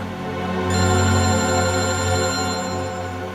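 A telephone rings with a loud, steady electronic tone, alone and close, holding unbroken for a few seconds.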